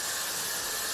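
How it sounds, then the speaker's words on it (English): A short burst of Got To Be Glue Free Spray misted onto a burgundy bob wig, a steady, close, loud aerosol hiss lasting just under a second with no talking. "seal it with my Got To Be Glue Free Spray. So just spray that on there"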